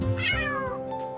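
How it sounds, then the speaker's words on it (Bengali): A single cat gives one clear, close meow that rises and then falls away over about a second, with no talking. "cat, CAT, cat"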